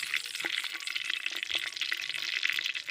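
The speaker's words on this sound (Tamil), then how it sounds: "கடுகு போட்டு ரொம்ப நேரம் ஆகுதுங்க, இப்போ தான் பொரிய ஆரம்பிக்குது." Mustard seeds splutter and crackle in hot oil inside a clay pot, a dense, steady stream of close popping and sizzling with no talking.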